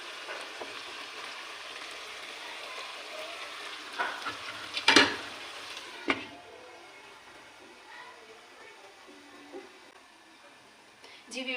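Chicken frying in a karahi while being stirred, a steady close sizzle broken by scraping clatters of the spoon against the pan, with one sharp burst midway and quieter sizzling afterwards.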